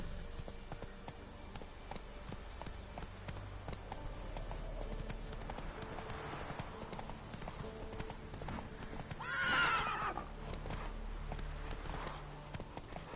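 A horse gallops in The Witcher 3 with steady rapid hoofbeats throughout, then a whinny partway through, and a voice is heard faintly under the hooves.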